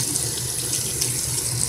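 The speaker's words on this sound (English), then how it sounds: "I turn on tepid water" Bathroom tap running tepid water into a sink, a steady soft splashing stream that continues evenly throughout, fairly quiet, with no one speaking.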